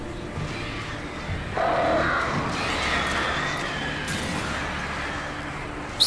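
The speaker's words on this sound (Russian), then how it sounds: "Что за птицы такие дурные?" Crows cawing in the video game Alan Wake, set in a dark forest, several harsh calls over a steady ambient game backdrop with a low rumble, moderately loud and with no talking.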